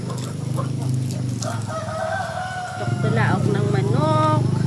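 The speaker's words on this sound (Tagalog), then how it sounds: "Tuktulaok ng manok." A rooster crows loudly nearby on a rainy farm, a long drawn-out call rising and falling, following a few seconds of softer fowl sounds and background noise.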